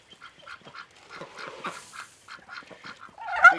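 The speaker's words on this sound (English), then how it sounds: "I gotta go feed the ducks" Ducks quack in a rapid, irregular run of short nasal calls over about three seconds, fairly close, with a louder call at the end and no talking.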